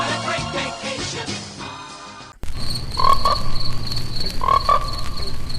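Frogs croaking in a film trailer from American International Pictures: a musical passage cuts abruptly to a dense chorus of croaks that rises in loud, repeated bursts.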